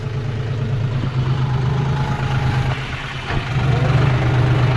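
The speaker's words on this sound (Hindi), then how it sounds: "तो भाई चला रहे ट्रैक्टर" A tractor engine runs steadily at idle, a low continuous rumble with a strong steady hum, loud and close throughout with no speech.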